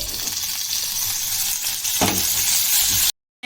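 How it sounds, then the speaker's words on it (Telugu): Tomato added to onions frying in a pan, a continuous close sizzle with a brief stir or clink midway, cutting off abruptly at the end. "కొద్దిగా టమాటా వేసుకుందామండి ఇందులోకి."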